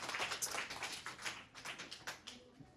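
A classroom of pupils claps together after a correct answer, fairly faint but busy bursts of hand claps that swell and thin out, with no talk over them.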